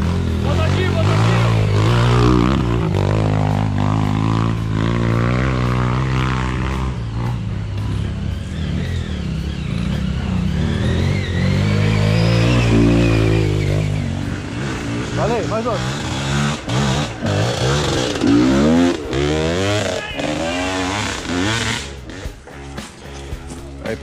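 A Honda CRF250F dirt bike engine revs loudly and steadily up and down on rough ground, with voices talking at times over the running motor.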